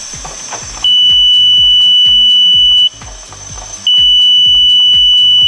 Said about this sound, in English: You can hear the lowering alarm working,